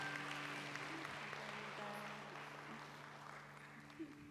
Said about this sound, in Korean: 축복의 박수 드리겠습니다